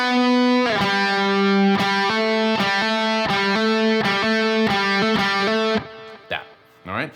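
Distorted electric guitar plays a post-solo riff, a steady run of rhythmic chugging notes, loud and close, ending in a few scattered softer picks.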